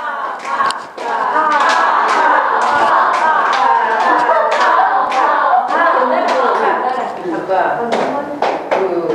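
A group practising a Buddhist service in a Korean temple class claps hands together, loud rapid irregular claps close by, with a teacher's voice talking over parts of the clapping.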